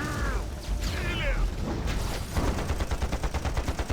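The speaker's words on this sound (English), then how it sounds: "A gunfire from the side" Rapid bursts of gunfire crackle amid chaotic battle noise in the video game Panzar, with a fast repeating rattle building toward the end.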